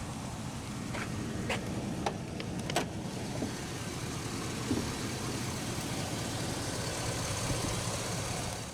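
A 2003 Cadillac Escalade AWD with GM's Vortec 6000 naturally aspirated 6-liter V8 idles steadily with a low, even rumble, with a few faint clicks early on and no talk.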